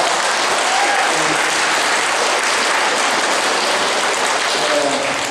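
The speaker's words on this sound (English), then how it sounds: "Let's give her a round of applause." Sustained audience applause fills a veterans honoring ceremony in Siletz, Oregon, a dense steady roar of many hands clapping at close range for the full stretch with no pause.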